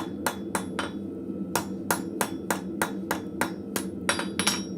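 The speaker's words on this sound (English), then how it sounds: "Then we come back and do the hammer texture on the corners." A blacksmith hammers a texture onto the corners of a hot square steel taper, sharp ringing strikes landing in a quick, fairly regular rhythm, about a dozen close, loud blows over a low shop hum.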